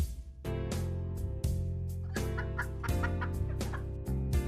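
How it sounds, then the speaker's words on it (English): Chicken clucking sound effect from a game test scene, a series of sharp clucks and squawks over steady background game music with a continuous low tone. "And we've got the first chicken sound,"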